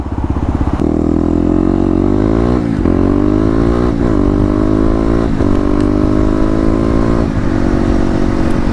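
A Kawasaki KLX250 motorcycle fitted with a 13-tooth sprocket rides onto a highway, its engine loud and close, revving up through gears in repeated rising pulls with brief drops at each shift.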